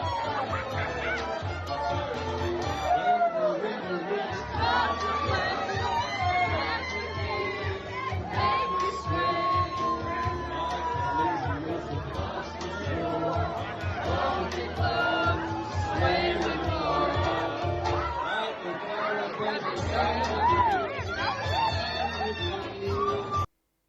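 Crowd of about 100 people at a stage performance, a steady dense roar of cheering, shouting and chatter that continues throughout.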